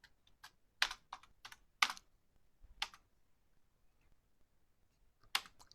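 Keys on a computer keyboard clack in scattered, irregular bursts of typing, close and crisp against a quiet background, with no voices.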